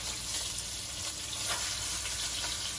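Pot roast meat sears in a hot pan with a loud, constant sizzle and crackle close up, no voices over it.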